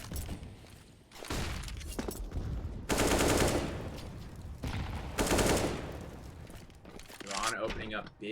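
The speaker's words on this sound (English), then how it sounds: "Opening up big 2 headshots onto Sharky and Shaniak" Gunfire in a competitive video game match, with repeated bursts of rapid automatic shots and impacts rising and falling under steady excited commentary from a caster.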